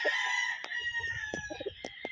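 A six-month-old Butcher Mt. Banahaw bloodline gamefowl rooster crows in a long, drawn-out call, with short clucks and scattered sharp knocks close by and no talking.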